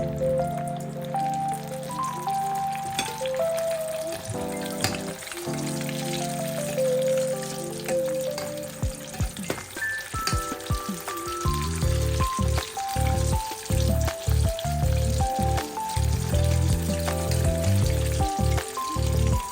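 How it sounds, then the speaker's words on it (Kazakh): Marinated chicken wings crackle and spit in strongly heated vegetable oil, a steady sizzle with popping bursts, heard alongside a melodic musical backing that dominates the first half. "Сұйық майды қатты қыздырып, үстіне тауық еттерімізді саламыз"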